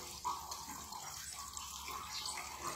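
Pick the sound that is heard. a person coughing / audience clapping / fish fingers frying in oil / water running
water running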